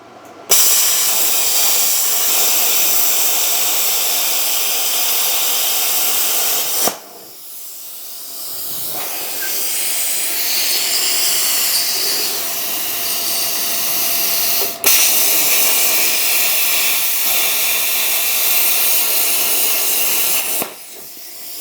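Arccaptain CUT55MP plasma cutter freehand cutting sheet metal, a loud harsh hiss sustained in long stretches, broken by a few abrupt stops and restarts as the torch arc cuts out and fires again.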